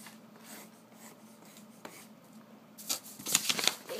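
Pencil drawing fire on paper for a dragon sketch, quiet scratchy strokes at first, then a burst of quicker, louder rapid scribbling near the end, close and without talk.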